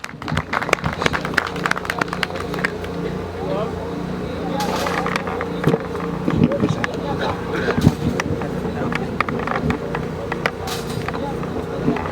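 A crowd claps to welcome guests at a tower groundbreaking ceremony, a steady patter of applause mixed with murmuring voices and nearby talk throughout.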